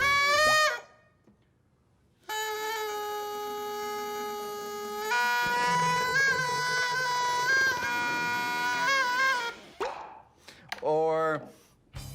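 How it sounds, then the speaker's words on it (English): Air blown through a holed object into dish soap and water makes loud bubbling: long buzzing, honking tones with a few bubbly plops and short gaps between bursts. "I like this one. I call it the loud bubble."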